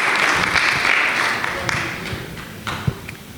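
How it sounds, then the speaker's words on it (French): Audience applause at a presentation by a laboratory partnership, a short burst of clapping that fades over a few seconds, with a few sharper claps near the end. "Veuillez les applaudir."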